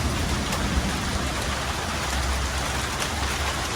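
Steady rain pours down in a dense, even hiss, with no voices and no break in the downpour.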